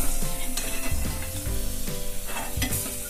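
Almonds and other dry fruits frying in a pan for gond laddu, a steady sizzle with repeated stirring and scraping of a spoon against the pan throughout, close and fairly loud, no talking.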